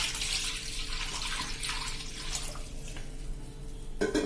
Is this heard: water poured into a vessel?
yes